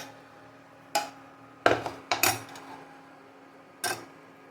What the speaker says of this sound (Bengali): এবার আমি ইন্ডাকশানটা অফ করে মাছগুলো ঢেলে রাখছি।